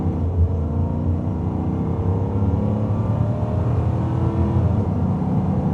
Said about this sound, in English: That lovely Aston Martin V8 bellow